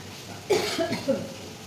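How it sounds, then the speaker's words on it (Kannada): Coughing set off by spicy masala fumes while cooking a Kerala-style mushroom gravy, a short close burst of two or three coughs against a quiet kitchen background. "ಮಸಾಲೆ ಕೆಮ್ಮು"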